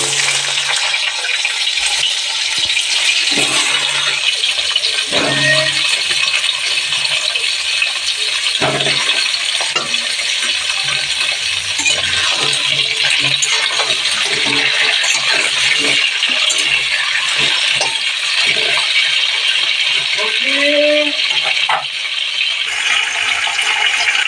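Vegetables go into a pan of hot oil with chili and panch phoron and sizzle loudly and steadily, with scattered clinks and stirring knocks of a spatula against the pan throughout.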